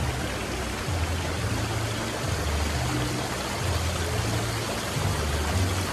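A hotel fountain flows with a steady, close, noise-like splash and rush of water, unbroken for the whole stretch, with a faint low hum beneath and no voices.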